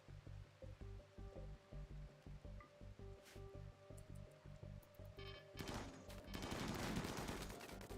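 Rimworld gunfire rings out as a rapid, regular string of bursts over a steady synthetic hum, followed by a louder, noisy wash of impacts and rushing sound near the end; faint overall with no talking.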